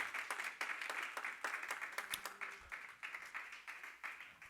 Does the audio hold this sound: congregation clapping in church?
yes